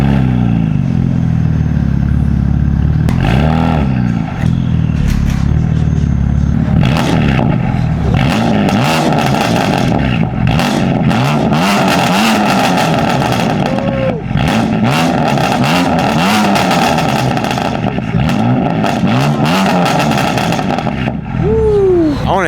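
A heavily modified BMW F80 M3 engine and exhaust revs hard and loud, close up from behind the car, with repeated throttle blips and a sustained roar that fills the whole stretch, with faint voices now and then.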